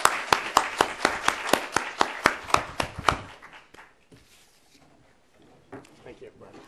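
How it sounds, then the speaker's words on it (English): A small lecture-hall audience claps for a professor after an academic talk on Northeast Asian regionalism, with distinct, evenly spaced claps for about three seconds that quickly thin out and fade into quiet room noise. "please join me to run a round of applause to Professor Rozman for his excellent"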